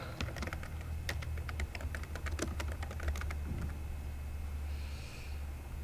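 Computer keyboard typing a document title: quiet, irregular clicks of keys pressed up close in a hushed room, with no voice.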